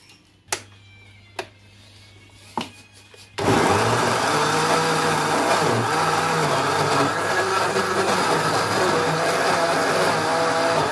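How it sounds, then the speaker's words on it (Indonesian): A few soft knocks, then a blender grinding corn fishing bait roars to life and runs loud and steady for several seconds, motor whining continuously. "sekarang umpannya kita blender dulu ya teman-teman ya"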